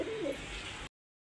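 A large pair of Indian Kagzi pigeons gives a soft, low cooing phrase close by, heard briefly before the sound cuts off.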